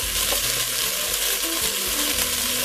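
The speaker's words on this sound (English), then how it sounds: "I want to add my onions to the pan. So they can" Onions sautéing in a pan for beef stew, a close, dense, steady sizzle with faint scraping and clinking as they are stirred.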